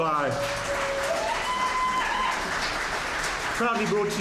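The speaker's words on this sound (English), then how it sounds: "let's everybody give everybody a round of applause" Crowd at a boxing event applauding, continuous clapping under a loud announcer's voice speaking over a PA.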